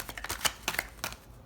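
Tarot cards are shuffled up close in a few quick, quiet riffling bursts, then a brief pause, with no one speaking.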